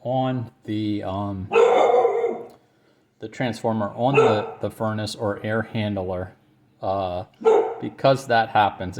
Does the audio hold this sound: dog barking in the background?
yes